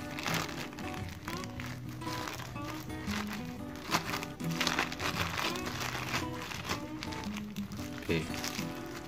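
Fishing bait mix with Kuku Bima grape energy powder is shaken in a crinkly plastic bag, giving a continuous close rustling and crumpling with occasional sharper crackles, no voice over it.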